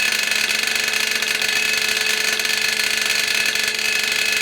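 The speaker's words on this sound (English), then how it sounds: "that sound is the blades hitting that metal safety guard" A cheap, worn jointer runs with its cutter blades set too high, so they strike the metal safety guard, giving a continuous loud whirring, buzzing rattle with a high metallic ring that stays steady throughout, with no voices.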